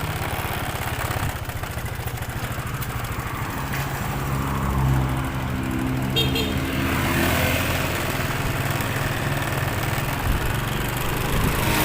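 A manual-transmission motorcycle pulls away gently in first gear and gradually gains speed, its engine drone steady and close, rising slightly in pitch as the throttle opens.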